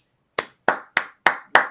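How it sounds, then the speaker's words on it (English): One person claps five times at a steady, unhurried pace after a short silence. The claps are sharp, close and loud, with no talking over them. "What you clapping for"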